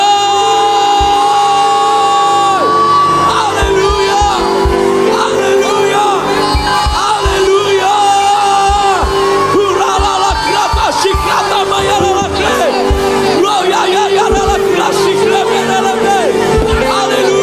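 A church congregation at an Easter worship service erupts in sustained, loud joyful shouting and cheering, a dense roar of many voices carrying on over music with no pause.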